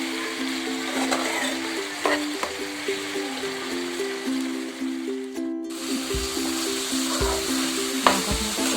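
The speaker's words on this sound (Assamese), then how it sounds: "মাংসখিনি পৰা তেল ওলাইছে, মই ভালদৰে ভাজি আছোঁ।" Chicken and lai greens sizzle steadily in a pan of released oil, close crackling with a few sharp stirring scrapes and knocks, a brief dip in the sizzle midway before it resumes.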